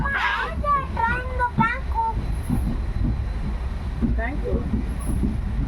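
A train in Mysore rumbles steadily from inside, a low continuous drone, while children chatter and call out over it.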